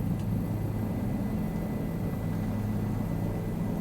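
Steady, loud rotor and turbine drone of a Bell 407 helicopter in a flight simulator, flying over western Los Angeles, holding an even, unbroken roar for the whole stretch with no talk.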